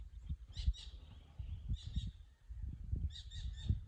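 Birds sing outdoors in a quiet natural setting, with several short bursts of bright chirping and trilling separated by pauses, moderately near, over a low rumbling background.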